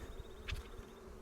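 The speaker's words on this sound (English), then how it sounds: "Bees all over it." Honeybees buzzing around a hive super during a hive inspection, a soft continuous hum with a louder bee passing close by for a moment.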